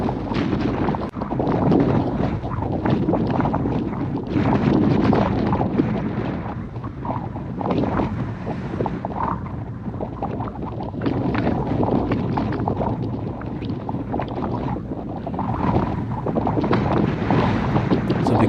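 Strong wind roars across the microphone during a bicycle group ride, a loud, gusty rumble that surges and dips continuously with no talking.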